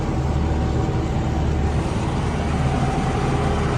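A tractor engine works in a field during sunflower sowing with fertilizer, straining on deeply cultivated soil; a steady, loud, low droning rumble continues throughout with no talking.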